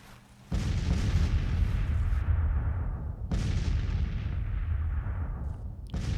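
Artillery fire in Grand Tactician: The Civil War, a Civil War strategy game: two heavy booming cannon volleys with long rumbling tails, loud and sustained, with no talk.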